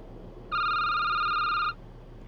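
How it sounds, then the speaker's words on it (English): A telephone in the Security Booth video game gives one steady electronic ring, a clear sustained tone of about a second that starts and stops abruptly over quiet background hum. "I'm just gonna pick up the phone, okay?"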